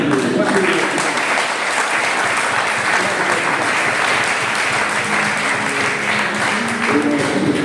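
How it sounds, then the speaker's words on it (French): A church congregation at a men's service bursts into loud, sustained applause and cheering, dense clapping filling the room steadily from start to finish. "Acclamez pour cette bonne journée"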